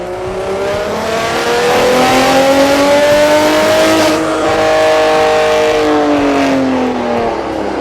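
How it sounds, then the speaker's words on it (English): A 2017 BMW 340i engine roars loudly on a dynamometer, rising in pitch, holding a sustained high rev, then easing and climbing again, close and continuous with no talking. "the car just kept roaring"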